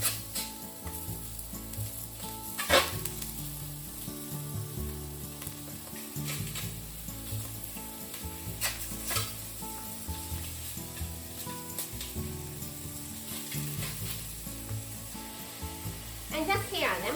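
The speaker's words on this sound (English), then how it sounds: "Heat up a pot or frying pan over medium heat and let's sear the chicken first." Chicken wings searing skin side down in a dry pot or frying pan over medium heat, a steady close sizzle with occasional stirring, alongside underlying low tonal background sound.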